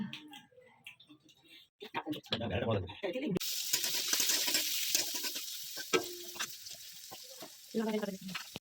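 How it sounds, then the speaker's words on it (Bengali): Vegetables, including chopped cabbage for a chicken momo filling, go into hot white oil. A steady, loud hiss of frying rises suddenly and runs on with light clatters, after some earlier handling noises and a voice. "সবজিটা ভেজে নেওয়ার জন্য সাদা তেল দিয়ে দিচ্ছি"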